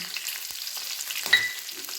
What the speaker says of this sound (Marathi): लसणाच्या पाच सहा टाकायच्या